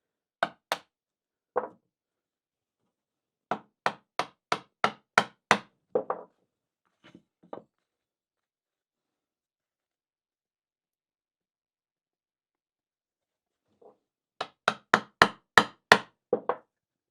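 A Japanese chisel pares a dovetail joint by hand in woodworking. Sharp, crisp wooden taps come in quick runs of five to eight, separated by near-silent pauses, close up and with no talking.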